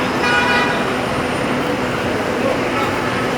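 Busy street traffic in Kuwait on a crowded Friday, a dense wash of engine and road noise with honking car horns close by and a faint high tone along the top.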